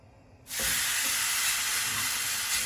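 Beef hits a smoking-hot pan of extra virgin olive oil for taco meat, a sudden loud sizzle bursting in and holding as a steady, close hiss.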